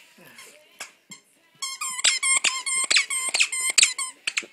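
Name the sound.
squeaky dog toy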